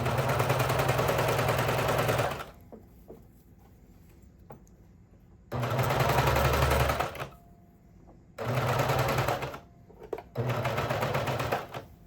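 Sewing machine topstitching a swimwear hem: three or four bursts of rapid, steady stitching a few seconds each, separated by quiet pauses with soft handling noises.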